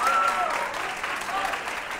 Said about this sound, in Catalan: Aplaudim-los!